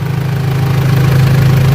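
Mitsubishi L200 Triton 3.2 diesel engine running cold just after starting, with a steady loud low idle hum, a continuous drone with no breaks and no voices.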